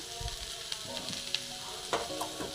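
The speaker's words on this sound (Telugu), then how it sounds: "ఇప్పుడు చిక్కుడుగా వేద్దాం రెండు నిమిషాలు వేగిన తర్వాత కారం ఉప్పు వేద్దాం" Flat bean curry sizzling steadily in a hot pan while a spoon stirs it, scraping and clinking a few times over the constant frying hiss, close up with no talk.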